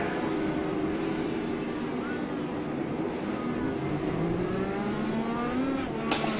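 Wide stock-car-style race cars in a racing video game drone steadily at high revs, a continuous engine roar holding pitch with slight rises, the car flipping off a road-course curb nearby.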